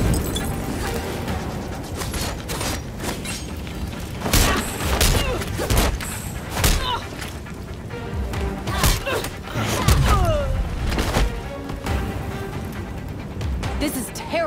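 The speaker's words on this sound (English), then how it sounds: "Enjoying the fireworks!" Fireworks in the video game Gotham Knights, with repeated booms, thuds and crackling bursts in an irregular barrage over fourteen seconds, loud and close, with game music and effects layered underneath.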